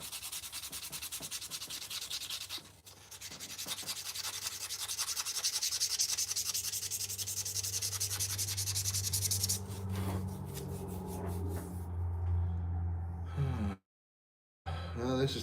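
Hand sanding a tobacco pipe, a steady raspy scratching rub that continues for about ten seconds, then slows into intermittent strokes with a low hum underneath and a short silent gap near the end.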